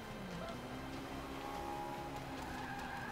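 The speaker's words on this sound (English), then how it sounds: "Get a lot of good tire scrubbing here" A Honda S2000 in Forza 5 slides through a corner of a C Class Alps Club race, its tires squealing in long, wavering tones over the low engine hum, fairly quiet overall.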